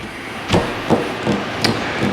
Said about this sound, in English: I ended up knocking that out with a punch and a hammer.